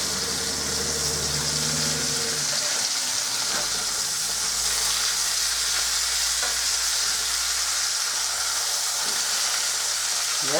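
Breakfast sandwich fillings fry in a pan that is too small for them, giving a loud, steady sizzle throughout with a few faint stirring scrapes and no talk.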